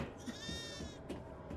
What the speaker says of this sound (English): Oh, I found a little baby pig.